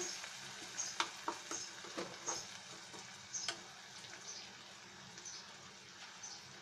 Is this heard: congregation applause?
no